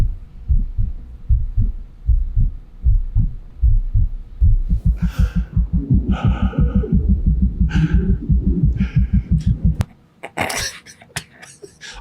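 Recorded heartbeat of an actress, a steady, deep thumping pulse throughout, speeding up and growing louder midway, with faint breathy sounds over the top and a harsh burst of noise near the end.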